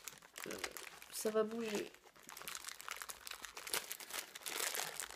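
Crinkly plastic wrapping on a package being opened by hand, rustling and crackling in bursts throughout while someone speaks over it.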